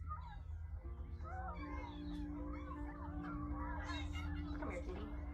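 A cat meows a few times over a busy film soundtrack that also has voices and siren-like tones.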